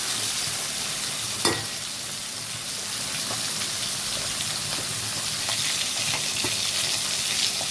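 Fish frying in hot oil for a fish masala curry, a steady broad sizzle holding evenly for several seconds with one sharp clink early on and faint crackles throughout.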